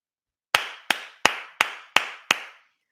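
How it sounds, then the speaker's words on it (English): Six sharp, evenly spaced hand claps in the style of NFL coach Jason Garrett, loud and close with brief decays in a quiet room. "Jason Garrett clap."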